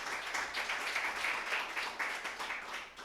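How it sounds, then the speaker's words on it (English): Audience applause at a community Black Lives Matter tribute event, a short spell of moderate, steady clapping in a room with rolling swells of loudness. "Please give them a round of applause."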